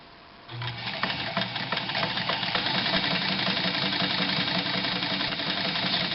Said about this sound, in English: Very quiet machine when it's running. That's at full speed.